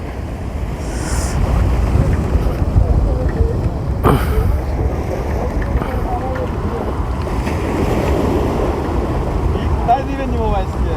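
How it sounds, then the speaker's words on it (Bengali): Ocean waves roll in onto rocks along a shore, a constant loud rushing roar mixed with heavy wind buffeting the microphone, with surges swelling and fading. "ঢেউগুলো আসতেছে কত সুন্দর করে।"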